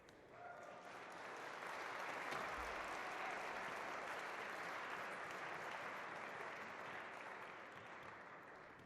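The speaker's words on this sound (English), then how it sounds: "The crowd really getting behind John White" A crowd applauds at a squash match, the 2004 Tournament of Champions final, in a long, dense burst of clapping. It swells early, holds steady, then tapers slightly, loud and continuous.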